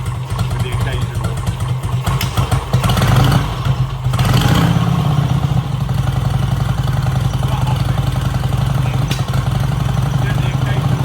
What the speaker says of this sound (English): So it tips over on two very happily with the occasional.